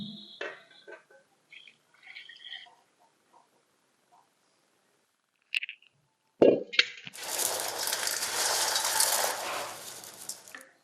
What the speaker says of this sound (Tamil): இந்த வெள்ளத்தை வடிகட்டிக்கலாம்.